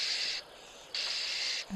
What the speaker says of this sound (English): And that is a weaver.